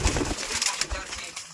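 Racing pigeons cooing inside a loft, soft repeated throaty coos with light rustling, fairly close and quiet, and faint human voices in the background.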